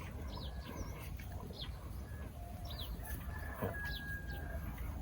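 Chickens on a farm with vegetable plots cluck repeatedly among chirping birds, over a steady outdoor background.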